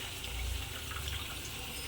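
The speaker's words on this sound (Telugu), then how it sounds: "మళ్ళీ వాటర్ వేసి పెట్టిన కదా ఆరిపోకుండా అని అందుకనే ఇట్లా వాటర్ అంతా పిసికేసి" Washed spinach is squeezed by hand and the water runs out, giving a soft continuous trickle and splash, close and fairly quiet with no talk.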